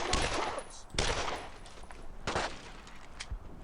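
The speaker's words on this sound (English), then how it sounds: "Well, we're under fire, Mac." Gunfire in the World War II shooter Brothers in Arms: Road to Hill 30, sharp bursts of rifle and machine-gun shots spaced across a few seconds, loud and close with no talk.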